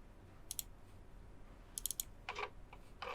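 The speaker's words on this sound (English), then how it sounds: "So I'm going to keep typing." Keys clack on a computer keyboard while CSS is being written, in short quiet bursts of a few taps separated by pauses, close by and with no talking.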